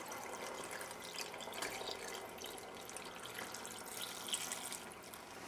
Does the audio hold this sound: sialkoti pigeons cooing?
no